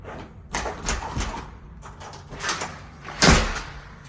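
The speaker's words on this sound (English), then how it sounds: "then the front door, it latches" A front door in a brand-new build swings shut and latches, giving a few close knocks and a sharp clunk near the end in a quiet room.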